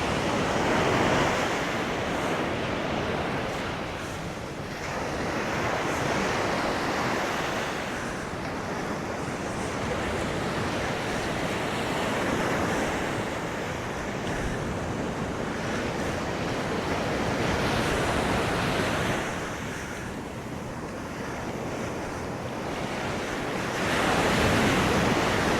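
Surf breaking on the beach at Nags Head, loud and continuous with slow swells and ebbs as each wave rolls in, mixed with wind buffeting the microphone and no talking.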